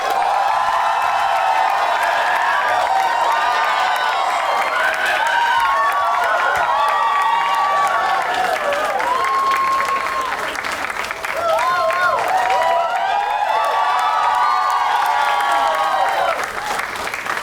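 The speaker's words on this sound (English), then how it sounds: "Please give a huge round of applause for Jose" Sustained applause from a large game show audience with scattered cheers and whoops, loud and continuous throughout, with a few voices rising above the clapping.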